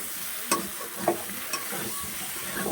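Potatoes being stir-fried in a pan for a vegetarian aloo dum, an even, close sizzle with a few soft spatula scrapes and taps.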